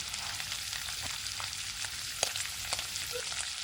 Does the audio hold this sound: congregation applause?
no